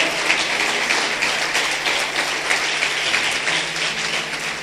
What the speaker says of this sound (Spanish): Dale un fuerte aplauso, dale la gloria.